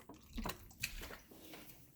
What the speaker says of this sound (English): water over the bone, water over the egg, and then covering that penny